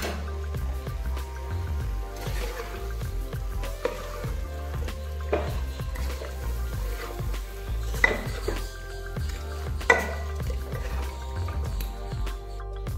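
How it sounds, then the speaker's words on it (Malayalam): Chicken pieces stirred into a tomato paste in a cooking pot for a Kerala chicken curry, with a steady run of spoon scrapes and clanks against the pot at close range and a faint sizzle underneath. "നമ്മൾ കഴുകി വെച്ചിട്ടുള്ള ചിക്കൻ ഇതിലേക്ക് ഇട്ടിട്ട് നന്നായിട്ടൊന്ന് മിക്സാക്കി കൊടുക്കാം"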